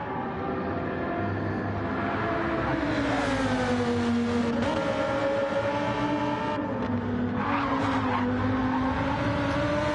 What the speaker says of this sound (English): He is absolutely throwing that Lamborghini around like I don't know what.